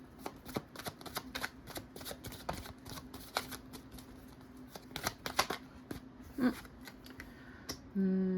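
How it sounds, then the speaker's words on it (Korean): Tarot cards being shuffled and drawn, a run of crisp rapid flicks and snaps close to the listener, ending with a soft thud, while a voice speaks faintly. "한 장 더 뽑아볼게요"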